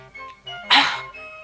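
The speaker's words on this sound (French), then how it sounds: "Un petit chien?" A small puppy in a French animated series gives a single short, breathy yelp or sneeze-like bark, brief and fairly close over a soft musical background.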